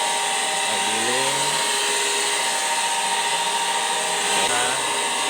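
Soybean grinding machine running for tofu making in a village, a constant loud mechanical whir and buzz filling the scene, with brief faint voices underneath.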